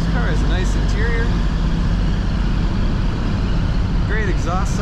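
A 1968 Chevrolet Chevelle Malibu's exhaust rumbles as a steady low drone from inside the moving car, with someone talking over it most of the time.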